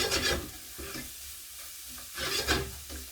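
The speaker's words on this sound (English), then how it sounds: "Our aubergines and our courgettes is coming on fine." Aubergines and courgettes cooking in a pan are heard as soft, fairly quiet stirring strokes, with two brushing scrapes over a faint sizzle and no talking.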